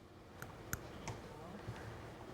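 A handheld presentation slide clicker at a clinical informatics congress gives a few sharp, separate clicks over about two seconds, with murmuring voices and room noise in the background.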